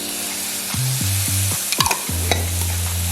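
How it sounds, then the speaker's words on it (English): Crushed tomatoes go into tomato paste in a stew pot for beef stew, stirred with a steady sizzle and a few scraping clatters, close and without talk. "I'm gonna work that in and get that coated. And add some crushed tomatoes."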